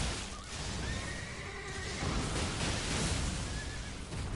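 A horse in the Elden Ring video game whinnies in a short, wavering neigh over constant game noise and rumbling action, followed by a fainter second call.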